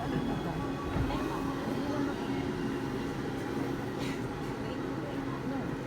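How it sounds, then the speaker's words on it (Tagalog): Inside the moving Mickey Chang train at a party, a steady low rumble and rolling hum continues throughout, with people talking over it. "We're in the Mickey Chang train."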